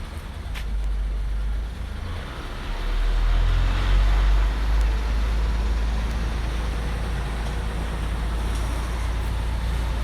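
A car carrier trailer delivering new 2020 Isuzu pickups, including a Space Cab 1.9 S and a V-Cross 4x4, gives off a steady loud low engine rumble with road noise that swells slightly partway through, with no talk.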